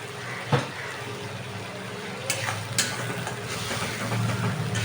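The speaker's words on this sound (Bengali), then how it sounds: "এবার আমি বেশ করে কষাবো।" A spice paste with turmeric is sautéed and stirred in a pan with a steady low sizzle, and a few brief scrapes of the spoon come through.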